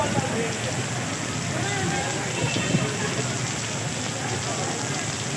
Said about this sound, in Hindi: जुमरात की बारिश है